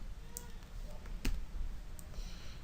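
A Control-J shortcut pressed on a computer keyboard in Photoshop Elements gives a single sharp key click near the middle, with a few faint clicks around it over a quiet room background.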